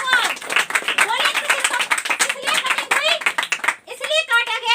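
Audience clapping along at a Hindi church sermon, rapid rhythmic handclaps under loud overlapping voices and cheering throughout.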